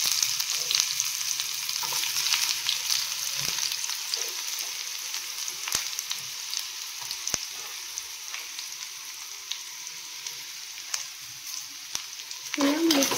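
Curry leaves and chopped onion sizzle steadily in a pan of hot oil while Maggi noodles are being made, a continuous close frying hiss with occasional sharp pops and a few light stirring clicks.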